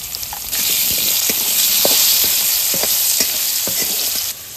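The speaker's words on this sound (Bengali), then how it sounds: "এখন আলুটা দাও, আলুটা একটু ভেজে নামাও" Salted, turmeric-dusted potatoes fry in a pan, starting with a jump into a loud, close, continuous sizzle, punctuated by scattered clicks of stirring, with no talk over it.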